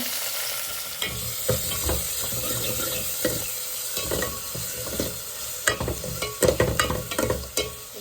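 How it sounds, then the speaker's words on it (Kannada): Onion, garlic and tomato fry in a pan under a constant low sizzle, with frequent close spatula scrapes and stirring knocks that grow busier toward the end. "ಈಗ ಈರುಳ್ಳಿ ಹಾಗೆ ಬೆಳ್ಳುಳ್ಳಿ ಮತ್ತು ಟೊಮೆಟೊ ಹಾಕ್ತಾಯಿದ್ದೀನಿ ಜಸ್ಟ್ ಫ್ರೈ ಅಷ್ಟೇ"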